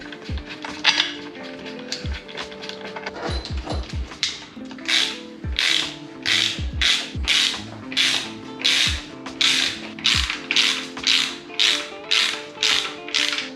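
A hand ratchet tightens bolts on a Toyota JZX100 engine, starting with scattered clicks and taps, then settling into a steady run of rapid ratcheting strokes, close up and clear.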